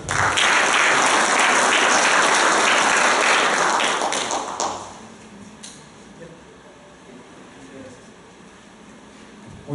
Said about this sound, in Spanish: démosle la bienvenida y un fuerte aplauso a Walter